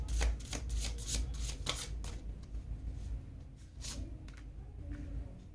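A deck of tarot cards is shuffled nearby, with crisp flicking riffles that are busiest at the start and then thin out over a low steady background hum, with no voices.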